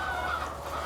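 Layer hens on a poultry farm cluck and murmur together in a constant flock chorus, moderately close and steady throughout.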